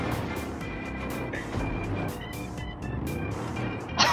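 A monster truck driving in the video game GTA 5, its engine droning steadily at moderate volume with brief tonal game sounds layered over it and a sharp loud burst at the end.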